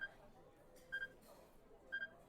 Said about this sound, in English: He heard the strange beeping sound again, suddenly different from the first time.